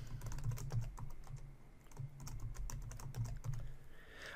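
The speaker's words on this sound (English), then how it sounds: "I'm going to set Bob's password." Rapid keystrokes on a computer keyboard as a password is entered during Active Directory user setup, a steady run of close, crisp clicks over low background hum.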